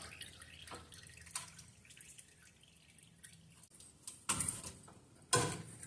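Fluid drains from a 1968 Dodge Charger during an all-wheel-drive body swap, with quiet scattered drips and a few sharper knocks and clatters close by in an otherwise hushed garage.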